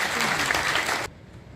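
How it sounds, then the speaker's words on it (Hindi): Audience applause at a youth foundation day gathering in Jammu and Kashmir, a loud, dense burst of clapping that cuts off abruptly after about a second, leaving quiet room noise. "मैं चाहता हूं कि एक जोरदार तालियों को होनी चाहिए यूथ की तरफ से।"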